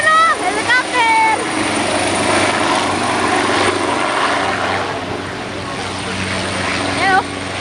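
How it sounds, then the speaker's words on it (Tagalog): A helicopter flies over Macau, its steady rotor drone holding throughout with people talking over it in the foreground. "Ayun, may helicopter o."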